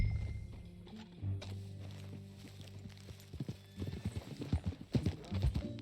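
Horse hooves clip-clop at a walk in the video game Red Dead Redemption 2, starting sparse and quiet, then quickening into a louder, busier rhythm of hoofbeats.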